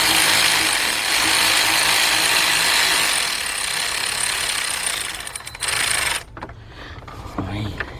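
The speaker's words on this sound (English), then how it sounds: "Get my cordless ratchet, and I'm gonna start bringing them in." A cordless ratchet whirs steadily, running bolts in until snug during head gasket and timing belt work on a Ford Fiesta engine, a loud close mechanical whine that cuts off near the end, followed by brief clanks.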